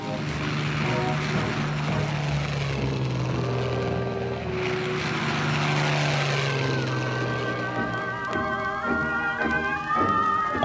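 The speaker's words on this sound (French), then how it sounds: "Les avions de reconnaissance allemands repèrent un adversaire qui n'en est pas un." German reconnaissance propeller aircraft fly over Normandy on the eve of D-Day, June 1944: a steady, loud droning engine hum with sustained tones runs throughout and slowly shifts in pitch near the end.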